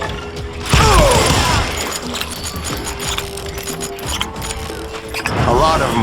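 Gunfire rings out in the Western shooter Call of Juarez: Gunslinger, with sharp shots and whirring, ratcheting mechanical noises over game sounds, and a voice talking part of the time.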